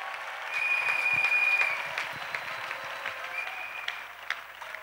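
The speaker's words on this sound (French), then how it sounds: "On peut acclamer maintenant. We can now clap." A church congregation at an evangelism service breaks into steady applause, a sustained clapping crowd that swells and then slowly tapers, with a faint tone ringing through it.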